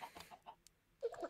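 A chicken in the video game Minecraft clucks in a few short, faint, separate bursts, with a stronger cluck near the end and no talking over it.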